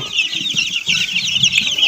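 Aseel chicken chicks, about thirty-five on a farm, peep continuously in a dense, high-pitched chorus, loud and close, with soft clucking underneath.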